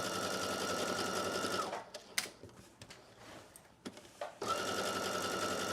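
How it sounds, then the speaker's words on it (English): A sewing machine stitches a seam on a slip dress with an invisible foot at regular stitch length, running steadily, pausing briefly with a few clicks and knocks, then resuming at a steady hum. "All right, so we're going to sew all the way up using a regular length stitch."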